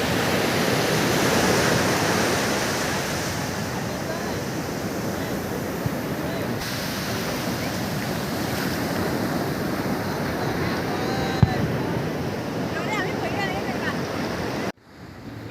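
Sea waves roll onto the Bay of Bengal shore at Puri in the evening, a continuous loud roar of surf that cuts off abruptly at the end, with no clear talk.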